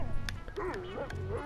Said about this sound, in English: No, not another dog.